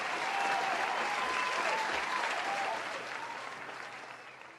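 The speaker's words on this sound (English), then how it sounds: "Applause." Applause celebrating a trading payout during a live stream, a steady even wash of many clapping hands at moderate, slightly distant level that slowly fades across nearly five seconds.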